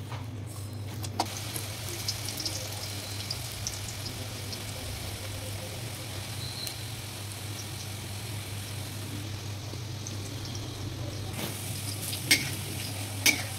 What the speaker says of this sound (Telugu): ఇలా క్రిస్పీగా కాల్చుకోవాలండి.